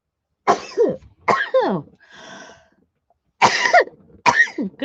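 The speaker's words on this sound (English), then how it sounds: "it sure is making me cough" Several harsh coughs from someone irritated by dusty wool fibres while working at a blending board, bursts in two clusters with a short exclamation between.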